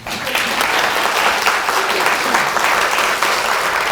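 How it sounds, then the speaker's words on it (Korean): Audience applause from a seated crowd at a lecture on real estate licensing exam preparation, a dense steady clapping that lasts the whole few seconds, fairly close and loud with no talking over it. "이쯤 되면 박수 한번 주시기 바랍니다."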